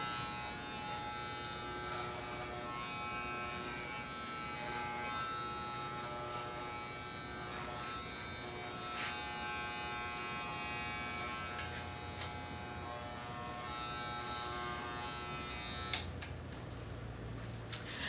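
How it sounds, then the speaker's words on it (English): A hair clipper fitted with a 5-guard attachment buzzes steadily while cutting the back and sides of a man's long hair, a faint continuous hum with small clicks near the end. "we've completed the back and sides with our clipper and 5-guard attachment"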